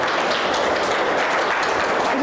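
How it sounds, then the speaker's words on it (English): Audience applause after thanks at a community talk, dense steady clapping held at an even level through the whole short clip. "Give them a round of applause."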